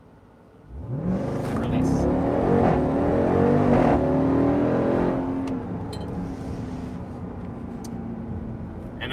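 A 2020 Jeep Grand Cherokee Trackhawk launches hard from a brake-held start, its supercharged engine surging into a loud, rising roar for several seconds before easing into a steady, quieter drone, with a voice speaking briefly.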